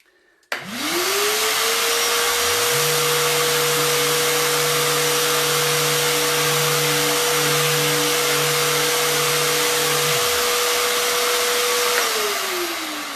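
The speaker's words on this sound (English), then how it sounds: "So I'm going to turn my vacuum back on. It's going to get loud again." A loud vacuum cleaner runs continuously close by, joined partway through by a lower-pitched sander motor humming steadily before it winds down.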